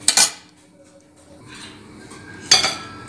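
Metal spoon clanks and scrapes against a pan while melting sugar is stirred for peanut chikki, two loud clinks at the start, soft stirring in between, then another sharp knock.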